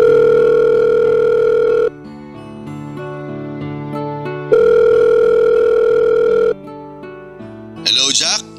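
Telephone ringback on an outgoing call, two long loud electronic tones separated by a pause, close and clear, with a brief voice near the end.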